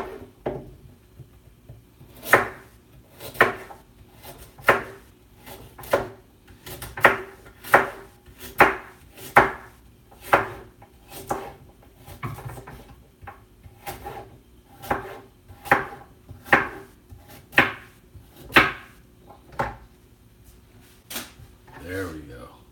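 A knife chops carrots on a cutting board for a vegan sinigang vegetable soup, with a steady series of crisp, close thuds at an even rhythm over a long stretch.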